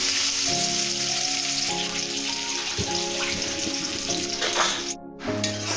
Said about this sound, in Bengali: তেল গরম হয়ে গেছে, আমি এর মধ্যে পেঁয়াজ দিয়ে দিলাম।